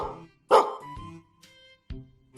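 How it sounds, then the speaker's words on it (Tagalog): A dog gives a few loud, sharp barks close by, spaced out with short pauses between them. "Nako, na-record at nahul ng aso, Abudo."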